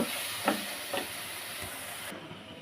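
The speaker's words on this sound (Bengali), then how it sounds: "এখন আমি চিংড়ি মাছটা ভালোভাবে কষিয়ে নেব" Shrimp being sautéed in a pan with ground onion paste for a Bengali jhol with jackfruit seeds and jute leaves, giving a steady close sizzle broken by a few soft stirring scrapes, with no voices.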